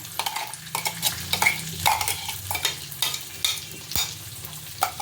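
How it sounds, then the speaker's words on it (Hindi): Potatoes and green peas frying in a pan are stirred with a utensil, giving repeated scraping strokes over a steady sizzle, close and fairly loud with no talking. "आलू को और मटर को मिक्स कर लिया है।"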